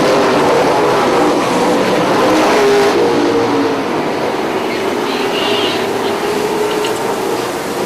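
Super late model race cars going into turn one in a pack, a loud continuous engine roar that stays steady and then eases off slightly toward the end.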